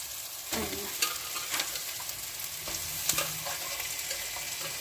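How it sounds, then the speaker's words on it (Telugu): Chicken pieces frying in a pan with a tomato and green chilli masala, with a steady close sizzle and a few sharp stirring scrapes and clanks of a utensil against the pan. "టమాటో పచ్చిమిర్చి మసాలా మొత్తము మంచిగా వేగినాక ఇప్పుడు చికెన్ యాడ్ చేసుకున్నాము"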